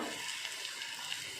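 Steady sizzling of food frying in a pan with soft stirring scrapes, close and continuous, with no voices over it.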